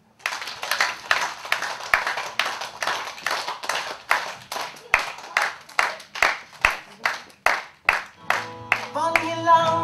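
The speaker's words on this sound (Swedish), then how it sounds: "Ni barn framme, klappa för Funky." Children clap in a steady, loud, rhythmic beat for Funky at a dance event, evenly spaced claps repeating for several seconds before music begins at the end.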